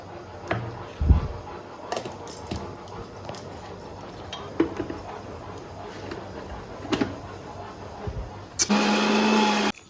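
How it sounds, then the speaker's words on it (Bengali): Small prawns being ground in a mixer grinder with green chilli, garlic and onion; scattered knocks and clicks of lid and jar handling, then a loud steady whirring burst of the motor for the final second or so. "এখন মিক্সারে বাটবো।"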